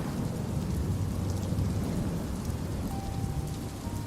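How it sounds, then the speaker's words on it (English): Rain falls in a steady, dense patter on a surface with a low thunderous rumble underneath, continuous and fairly soft throughout with no voices. "And the rain."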